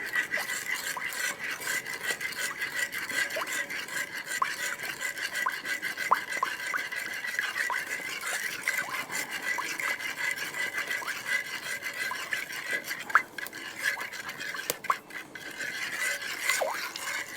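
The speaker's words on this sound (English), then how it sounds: "slowly add the sugar and stir it as we go" Cream and sugar stirred together in a camp oven, a steady scraping, rasping rub of a spoon against the pot that runs continuously at close range with no talk.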